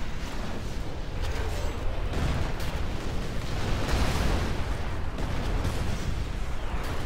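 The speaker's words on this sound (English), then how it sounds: "Another nuke cannon destroyed." In the real-time strategy game Rise of the Reds, a nuke cannon is destroyed amid heavy battle noise, a continuous loud rumble of explosions and gunfire with repeated booming bursts throughout.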